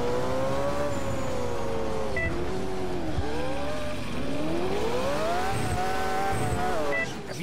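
Racing car engine in Alarm für Cobra 11: Burning Wheels, a steady loud drone whose pitch rises and falls with acceleration and gear changes, with brief tire squeals near the end.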